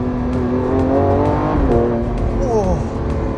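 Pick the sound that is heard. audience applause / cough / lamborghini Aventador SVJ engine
lamborghini Aventador SVJ engine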